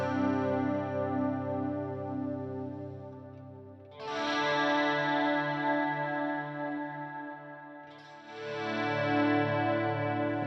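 Heavily distorted electric guitar through a cranked-up Marshall amp, sustained thick chords ringing loud and close, with two fresh strums cutting in around four and eight seconds, no voices.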